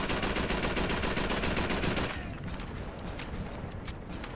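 Rapid automatic gunfire in the video game Call of Duty 3, a fast stream of loud shots for about two seconds, then quieter distant firing and battlefield noise.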